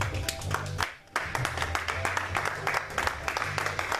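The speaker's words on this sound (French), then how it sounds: "Est-ce qu'on peut s'asseoir en acclamant encore très fort?" Church congregation applauding and cheering during a sermon, dense sustained clapping from many hands with a brief lull, voices mixed in under the applause.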